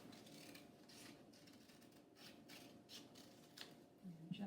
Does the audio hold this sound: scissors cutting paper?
yes